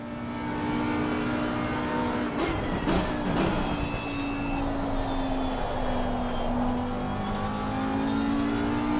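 Audi GT3 race cars in the ACC racing game at Monza roar past, their engines holding a loud, steady high drone with pitch shifts as they change gear, plus a brief rattle midway.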